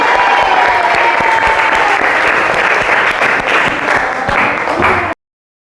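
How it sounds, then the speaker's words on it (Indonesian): A school classroom of students breaks into a burst of steady clapping that fills the room for about five seconds, then stops abruptly. "tepuk tangan ya."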